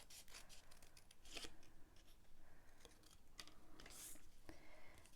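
Scissors snip through a small tab of scored paper or card during a papercraft class, a few short crisp cuts close by among soft rustling and handling sounds.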